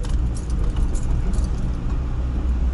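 A BMW E30 on red dealer plates creeps along a German federal road at about 30 km/h, its engine and tyre rumble a steady, loud low drone with faint rattles on top and no talking.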